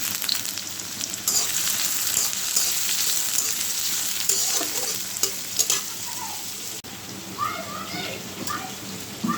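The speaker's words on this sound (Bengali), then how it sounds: "পেঁয়াজটা ভেজে নিলাম" Onion and green chilli frying in a pan give a close crackling sizzle with stirring scrapes. Spatter bursts come and go, and someone talks over the cooking.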